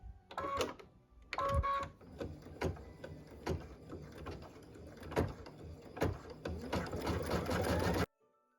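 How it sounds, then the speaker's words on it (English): An embroidery sewing machine stitches fold lines for a felt box ornament, a close, rhythmic mechanical whir with periodic clicks and thumps that stops abruptly near the end. "now it is stitching where we're going to be folding the box"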